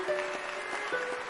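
Video game audience applauding themselves, a steady wash of clapping at moderate level that holds evenly throughout, with faint tonal game sounds underneath.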